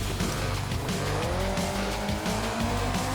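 A rally car in Colin McRae Rally slides through a handbrake turn, its engine droning loudly and steadily while tires squeal and skid over gravel throughout, with the engine pitch rising and falling.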